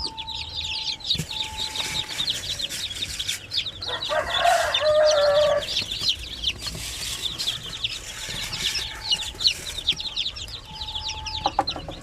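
A flock of young Basilan chicks peeps in rapid, overlapping high chirps throughout, with a louder, drawn-out fowl call rising in the middle. No one speaks.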